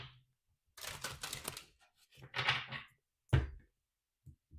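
A tarot card deck being shuffled, with bursts of riffling and papery slaps across a few seconds, ending in a sharp tap as the deck is squared; close and fairly quiet.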